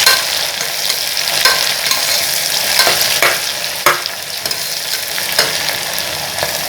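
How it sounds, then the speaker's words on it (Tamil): Chopped onions sizzling in hot oil in a pan for a Tamil-style chicken kurma, a steady broadband hiss punctuated by regular scraping strokes of a spatula, close and fairly loud with no voices. "வெங்காயத்தை போட்டு நன்றாக கிளறி கொஞ்சம் வதங்கணும்"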